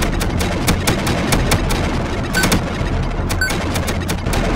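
Rapid, evenly spaced gunshots from the horror-styled video game CONTINUE?, a steady string of sharp cracks roughly every quarter second over a constant low rumble, with no talk.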